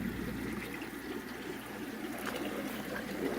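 Water from a 600-gallon aquaponics system pours steadily into a container through a 1.5-inch valve, a continuous close splashing and trickling rush that holds even throughout with no talking.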